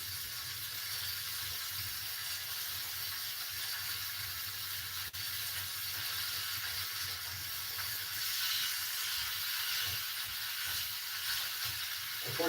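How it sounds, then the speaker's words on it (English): Steady broadband hissing and crackling of ribeye steaks sizzling in a hot oiled skillet, continuous and fairly quiet throughout with no talking. "Okay, have a decent sizzle."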